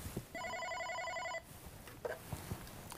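An OpenStage 40 desk phone rings for an incoming call, a steady electronic multi-tone trill lasting about a second, followed by quiet room noise and light handling clicks.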